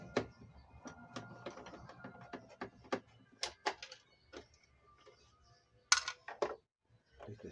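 Small metallic clicks and ticks come from a screw being worked loose on a Panavox 8160 in very poor, stuck condition, irregular and fairly faint, with scattered louder snaps.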